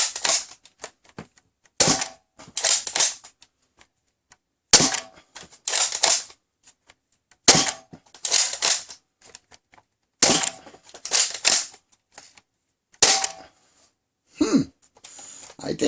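A Rhinoceros BJ.02 toy blaster fires in regular rounds, each a sharp crack followed by a couple of rattling mechanical bursts, repeating about every three seconds at close range and fairly loud.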